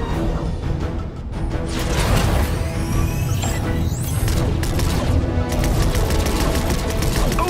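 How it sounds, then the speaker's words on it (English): A battle bus's laser cannons fire in a video game: dense, continuous bursts of rapid-fire blasts and crashing impacts, loud and relentless, with whooshing zaps streaking through the chaos. "I was hoping we'd have an excuse to try out the battle bus's laser cannons."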